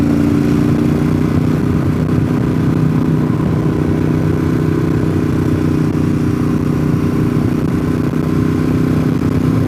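A full-dressed Harley motorcycle rides the winding Deals Gap road, its engine a loud, steady low rumble that holds constant without letup, close and continuous.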